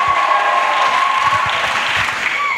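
A congregation at a pastoral academy session in Abidjan breaks into loud acclamation, dense clapping and cheering cries blending into a continuous roar close by, with voices mixed into it.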